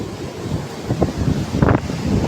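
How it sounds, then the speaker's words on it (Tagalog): Big ocean waves surging at high tide along a shore, heard as a steady loud wash of surf and wind buffeting the microphone, with a brief swell of crashing water near the end and no talking. "malaki na yung malalaki na yung alon high tide na"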